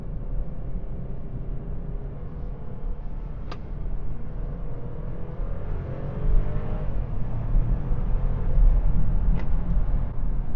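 A Seat Ibiza FR is driven at night, its engine a steady low hum from inside the cabin, rising slightly as it accelerates, with road noise throughout.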